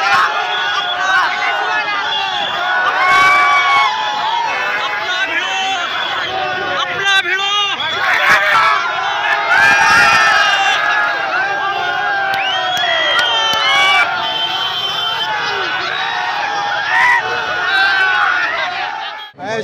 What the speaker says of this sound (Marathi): बच्चू कडू निवडून आल्यामुळे त्यांच्या समर्थकांनी जल्लोष करत आनंद व्यक्त केला.